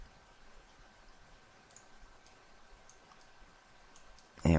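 A computer mouse clicks once, loud and close, right at the end, after a stretch of quiet room noise with a few faint ticks.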